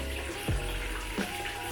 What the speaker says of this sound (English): the water that's going in there is natural hot spring water